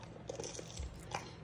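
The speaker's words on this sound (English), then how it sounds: "Now they're going to hear me crunching." A few quiet, close crunching bites into bruschetta toast drizzled with olive oil, with faint chewing in between and no talk.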